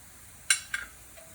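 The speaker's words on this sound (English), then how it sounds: "Now come the powdered spices, cayenne pepper, turmeric, and a cumin coriander blend" Powdered spices (cayenne pepper, turmeric and a cumin coriander blend) hit a hot cast iron pot, giving two short bright sizzling bursts close up, then a faint tail.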